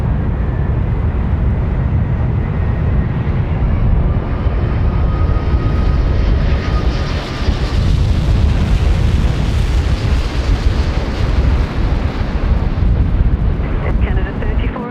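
An Air Canada airliner coming in to land at Sydney Airport on runway 25 on a windy day, a loud sustained jet engine roar with rumbling wind buffeting, heard from the ground.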